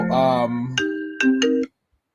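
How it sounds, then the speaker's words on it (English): A phone ringtone from an incoming call plays a short melodic chime of several bright tones, close and clear, then cuts off into silence. "I got a phone call."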